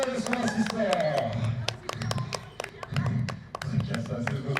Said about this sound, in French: Allez, applaudissez un peu Bérénice et Louis également.